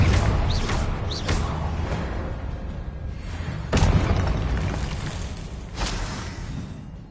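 Confringo spell blasts in Hogwarts Legacy, a few sharp booming bursts spaced a couple of seconds apart over a rumbling low backdrop, loud and close.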